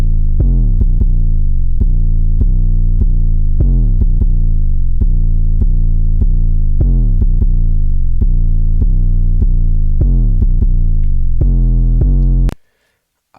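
A deep 808 bass line in an FL Studio beat plays a busier verse pattern of repeated booming notes, with sliding pitch bends between several of them, before stopping abruptly.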